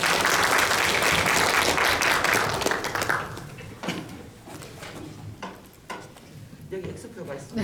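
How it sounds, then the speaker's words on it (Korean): An audience at a Busan discussion forum on mobility for vulnerable pedestrians breaks into loud, dense applause that fades over a few seconds into scattered claps and room noise, with a voice speaking over it. "큰 박수로 맞이해주십시오."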